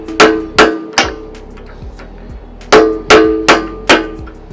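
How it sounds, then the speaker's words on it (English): A hammer drives a punch against a pin to lock the middle tooth onto an excavator bucket, giving about seven loud, sharp metallic clangs in two bursts with short pauses between. "Now we're going to use the same punch and hammer again."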